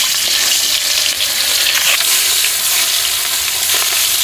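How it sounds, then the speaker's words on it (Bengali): Small pona fish fry loudly in hot oil in a pan, a continuous close hissing sizzle with faint crackles throughout and no voices. "এই যে পোনা মাছগুলো এখন ভেজে নেবো"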